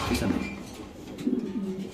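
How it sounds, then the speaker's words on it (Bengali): Fancy pigeons at a market cooing in soft, repeated low coos, close by, with two clear bursts of cooing separated by a brief lull. "সুস্থ সবল কবুতর দিতেছি"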